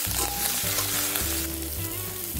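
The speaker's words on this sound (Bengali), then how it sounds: "এই সজনে ডাঁটা তো বেশি ভাজা যায় না, তাই করলার সঙ্গে একটু জাস্ট ছাপলে নিচ্ছি" Moringa drumsticks sautéing with bitter gourd in a hot pan for a no-onion, no-garlic vegetarian dish give off a steady, close, continuous sizzle and crackle with no talking.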